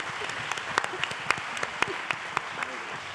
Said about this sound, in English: So let's have a round of applause before we go into Q&A.